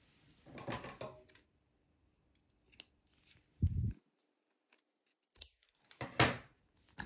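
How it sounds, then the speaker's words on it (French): Scissors snipping crochet yarn at the end of a chain stitch, a few short, sharp cuts separated by quiet pauses, close and fairly soft, with no speech. "Et on coupe le fil."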